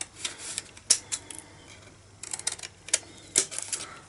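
Scissors snipping a mitre into cardstock for a gift box, with a series of quick, sharp, crisp cuts at irregular intervals, close and fairly quiet, with no talking.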